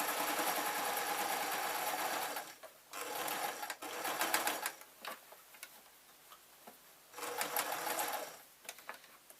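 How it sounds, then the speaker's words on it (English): A sewing machine stitches an artist's painting smock: steady rapid whirring and ticking in three bursts, separated by brief pauses. "Now what I need to do is just sew that together,"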